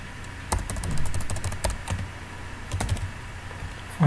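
Quick bursts of typing on a computer keyboard as Selenium test code is entered, with clustered key clicks separated by short pauses, close and fairly crisp, with no talking over it.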